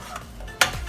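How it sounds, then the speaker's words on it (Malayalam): A spoon or spatula works dry ingredients into an egg mixture in a bowl for a vanilla pastry cake, mostly quiet with one sharp clink and scrape against the bowl partway through; no talking. "എന്നിട്ട് നമുക്ക് ഡ്രൈ ഇൻഗ്രീഡിയൻസ് ചേർത്ത് കൊടുത്തിട്ട് പതുക്കെ മിക്സ് ചെയ്തെടുക്കാം"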